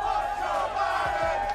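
A large crowd chanting "Let's go Brandon" in unison, a dense rhythmic roar of voices heard from a distance, steady and moderately loud throughout.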